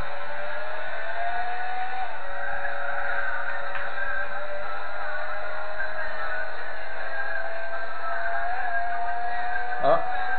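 A car engine in the racing game Gran Turismo 4 drones steadily with a rising whine and a muffled, band-limited tone, holding a sustained high-revving note throughout.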